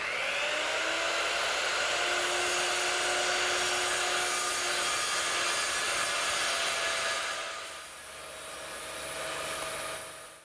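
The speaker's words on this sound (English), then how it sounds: "I'm going to use my circular saw to take out that material" A circular saw cuts through hardboard laid over 2x4 framing in a woodworking shop, giving a loud, steady whining roar for about seven seconds before it dips briefly and then swells again.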